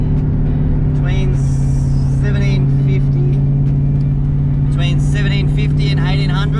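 An LS1 VN Commodore with 3.9 diff gears cruises at highway speed, a steady loud drone with a thin tonal whine beneath, as someone talks over it.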